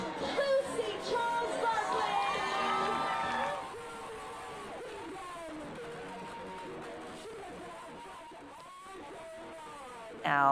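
Crowd noise at the finish line of the Ironman 70.3 Eagleman triathlon, a moderate spread-out cheer and babble from spectators, loudest early and fading to a steady distant murmur.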